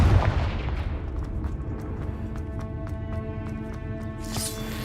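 A Confringo fire blast spell in Hogwarts Legacy on Xbox opens with a loud booming burst, followed by ringing magical tones and another bright crackling flare at the end.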